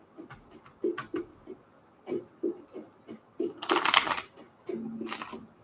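Playing cards being shuffled at close range in a quiet room, with soft scattered taps and flicks followed by two quick, crisp riffle bursts.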